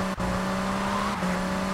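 A car engine drones during a street race in GTA Vice City Definitive Edition on PC. The sustained, even tone breaks briefly twice as the pitch shifts.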